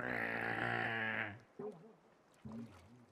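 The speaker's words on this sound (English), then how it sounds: "So he'll just moan like a zombie." A zombie duck in a Halloween video game event moans with a long, low, harmonic groan, followed by two shorter wavering moans after a pause.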